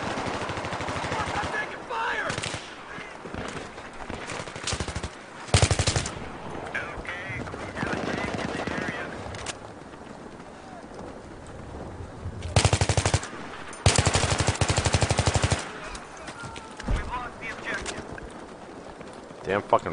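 Rapid automatic gunfire from the video game Battlefield 3, sustained bursts of machine gun fire with loud stretches and brief pauses, heard alongside a player talking over the game audio.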